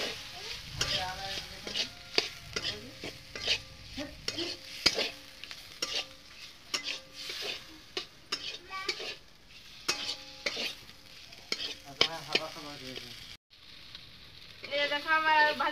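Boiled potato pieces stirred through spiced oil in a frying pan, with repeated scraping strokes of a spoon over a steady close sizzle, a brief near-silent break late on, then more stirring; someone speaks intermittently.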